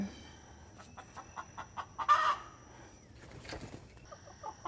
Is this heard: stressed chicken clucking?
yes